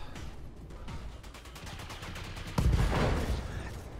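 Mech machine guns firing in the BattleTech video game, a dense rattling burst of gunfire that swells louder partway through with a heavy impact, over a continuous noisy battle backdrop.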